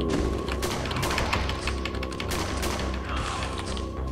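Gunfire in the video game They Grow: rapid bursts of shots and thuds crackle continuously at moderate loudness, dense and busy throughout.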